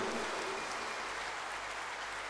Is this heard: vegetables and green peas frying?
no